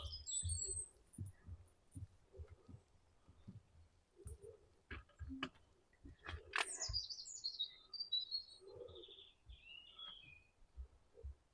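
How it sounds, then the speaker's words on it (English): Faint bird chirps and tweets scatter over quiet outdoor background at monastery ruins in Germany, with occasional soft thumps and rustles nearby. "the birds are crazy"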